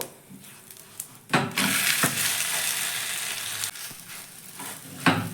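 Atta flatbread tiffin frying in a little oil in a pan, a steady loud sizzle that surges in after a few clanks and scrapes, then tapers with more utensil knocks near the end.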